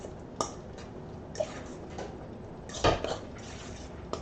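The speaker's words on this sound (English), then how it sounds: "So we'll just go ahead and mix this together." A spoon scrapes and clinks against a bowl as pizza roll filling is mixed, with a few sharp taps and irregular stirring scrapes, close and fairly quiet.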